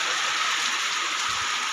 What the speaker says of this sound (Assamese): দেখিছেনে ইমান ডাঙৰ বৰষুণ আহিছে